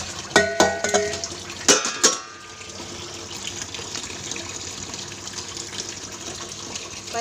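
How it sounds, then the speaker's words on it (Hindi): Hands washed under a kitchen tap: a few sharp clatters and splashes at the start, then a steady, moderate stream of running water to the end. "पहले मैं हाथ धो ले रही हूँ।"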